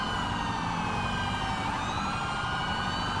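A police siren wails steadily in the LSPDFR police video game, continuous and loud with layered overlapping tones, heard alone without talk.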